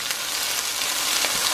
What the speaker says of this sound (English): Right now, we're just sauteing up the peppers and onions.